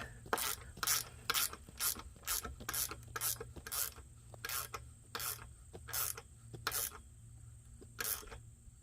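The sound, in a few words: ratchet tightening a bolt on a hoop house frame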